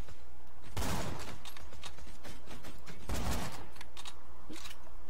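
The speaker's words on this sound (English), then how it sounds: "Who is shooting?" Gunfire in the video game Borderlands 2, dense bursts of rapid shots with two louder blasts, continuous and close, with no talk over it.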